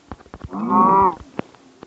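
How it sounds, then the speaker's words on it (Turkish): A Minecraft cow gives one clear, loud synthetic moo lasting about half a second, with light game clicks and footsteps around it. "dur sakin inek"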